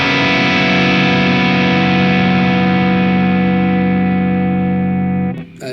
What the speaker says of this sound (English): But here's a little Dimension D.